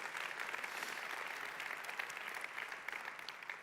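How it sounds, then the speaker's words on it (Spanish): Church congregation applauding during a sermon, a steady, dense wash of clapping filling the whole stretch at moderate distance with no pauses. "Dale un fuerte aplauso al Señor."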